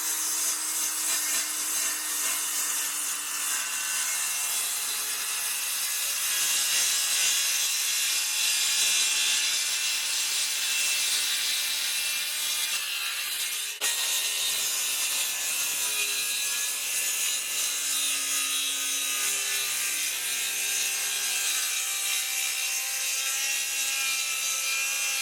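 A Makita HS7601J circular saw runs through wood in a long continuous cut, a loud, close, rasping whine with a brief break midway, carrying on steadily throughout.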